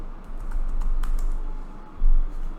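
Typing a search term on a computer keyboard, a quick run of close key clicks with a heavier tap near the end, no voices.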